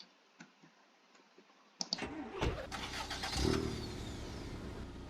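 A VAZ-1111 Oka car engine starting: a few quiet clicks, then the starter cranks briefly and the small engine catches and settles into a steady idle, close by.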